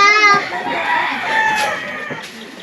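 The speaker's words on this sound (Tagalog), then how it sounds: "Manok na pula." A chicken crows briefly at the start, followed by mixed background noise and faint distant voices.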